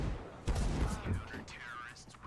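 Gunfire in a Counter-Strike match on the Inferno map, a burst of muffled shots fired into a smoke cloud mixed with game effects, heard under a commentator's voice.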